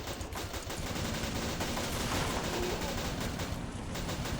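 Battle of Empires: 1914-1918 game audio carries dense, sustained machine gun fire, rapid continuous bursts rattling at close range, with no voices.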